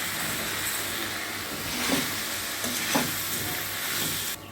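Rice poured into a hot pan of fried spices for a muri ghonto dish, giving a steady, loud, close sizzle with a few brief louder surges as the grains land and are moved.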